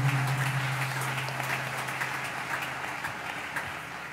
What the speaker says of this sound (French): Ensemble, nous disons Amen en acclamant très fort le Seigneur.